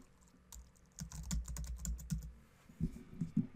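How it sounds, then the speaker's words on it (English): Fingers type a site title on a computer keyboard, producing a quick burst of close, crisp keystrokes, a brief pause, then a few heavier key presses, with no talking. "So now I'm going to type in my title of the site"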